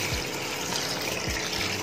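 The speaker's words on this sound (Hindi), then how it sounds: "तो अब इसमें हम डालेंगे पानी" Water poured into a pot of lentils being rinsed for dal fry, a steady splashing gush running without a break for the whole short stretch, close and fairly quiet.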